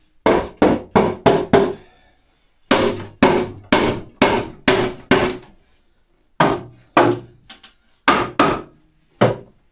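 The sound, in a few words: hammering wood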